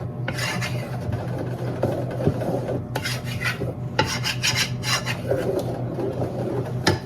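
A spoon stirs vanilla into chocolate frosting for a Texas sheet cake, making repeated raspy scraping and rubbing strokes against the bowl in irregular bursts. The sound is close and steady, and no one speaks.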